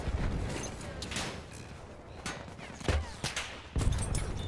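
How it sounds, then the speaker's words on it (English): Gunfire in Battlefield 1, sniper rifle shots in a support-weapon matchup, heard as several separate sharp reports spaced irregularly a second or so apart, mid-distance, over a busy battlefield background. "we're gonna snipe that from way out there"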